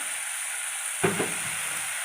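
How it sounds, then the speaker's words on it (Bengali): Crushed garlic goes into hot oil already frying onion paste, producing a quiet steady sizzle that swells briefly at the moment it drops in, then settles back into a continuous hiss. "একটু রসুন থেতো করে রেখেছিলাম, ওটাও দিয়ে দিলাম।"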